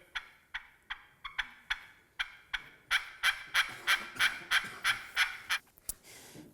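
A handheld hunting turkey call, costing under $20, producing a rapid series of about fifteen sharp yelping clucks that grow louder and closer together before trailing off into breathy quieter notes.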